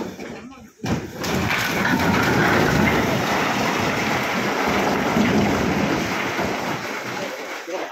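Heavy continuous rain falls in Udupi district, a loud, dense, steady downpour hiss that swells in after a brief quiet moment and holds without a break.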